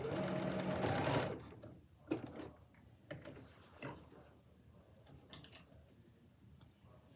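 A domestic sewing machine stitching fabric for an apron runs in a loud, fast whir for about a second, then stops, leaving faint scattered taps and handling noises from the work.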